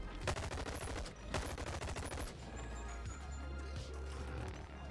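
Rapid bursts of MP5 submachine gun fire in the VR game Boneworks zombie mode, loud and close, with dense automatic volleys in the first half, then a steadier din of game noise.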